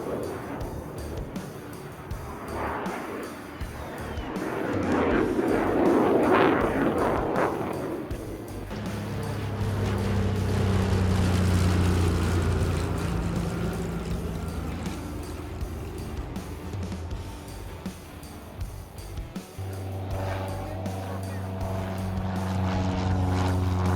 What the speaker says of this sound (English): What a really cool sight to see these rare aircraft in flight.